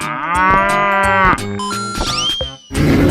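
A cow in a 3D animal video game lets out a loud, drawn-out moo, followed by short cartoonish sound effects and a burst of noise near the end.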